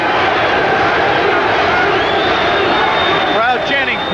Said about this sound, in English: Crowd chanting Pete, Pernell Whitaker's other nickname, along with Sweet Pea